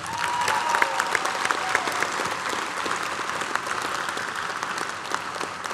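A large audience at a 2023 high school graduation ceremony applauds, dense continuous clapping at steady loudness with a few sharper individual claps standing out.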